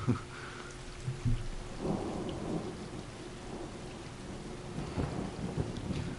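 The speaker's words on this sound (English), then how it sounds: "It's raining in the game." Rain and thunder fill a stormy scene in the video game Stray: a steady hiss of falling rain runs throughout, with several low thunder rumbles and thuds rising out of it, the loudest near the start and around two and five seconds.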